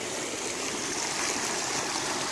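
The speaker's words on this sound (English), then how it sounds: "Don't know if you can hear me over the water, but here's the river, kind of up close." Rushing river water heard up close, a dense, steady wash of broadband noise that carries on unchanged with no voices.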